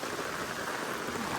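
Heavy rain falling in the Amba Ghat hills, a faint, even hiss of steady downpour with no distinct drops or voices, continuous throughout.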